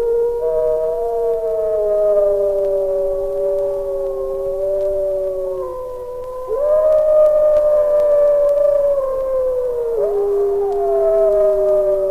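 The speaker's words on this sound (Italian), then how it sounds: "si incontra ancora qualche ultimo lupo e si sente il suo ululato lamentoso" Wolf howling in the Italian wild, one of the last wolves coming down to the valley driven by hunger: a long, mournful, sustained howl with wavering pitch, loud and close, swelling again partway through and sliding at the end, no talk.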